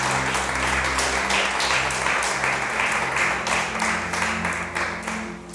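A church congregation applauds loudly in praise, with sustained rapid clapping over a steady tone of music underneath. The applause is strong throughout and tapers slightly at the end.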